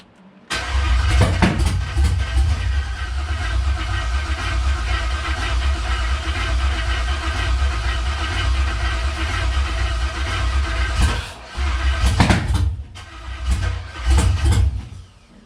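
An old car engine with vacuum leaks, being started for the first time in a long while, cranks and fires into a loud, rough, continuous run, then stumbles and surges in uneven bursts near the end.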